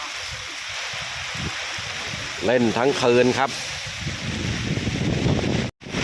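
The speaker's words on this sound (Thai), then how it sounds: "ทั้งฝนทั้งลมเลยอะ่ะ" Steady rain and gusting wind roar across a tent campsite in Thong Pha Phum National Park, Thailand, with someone speaking briefly in Thai over it near the middle.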